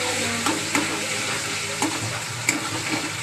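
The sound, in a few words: ginger garlic paste sizzling as it is added to the pan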